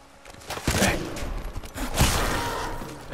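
Bursts of gunfire crackle at moderate volume during a Titanfall 2 firefight, several thumping volleys across a few seconds with no talking.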